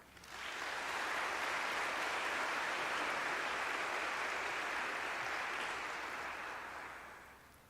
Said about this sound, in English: One more great big round of applause for Dean Bennett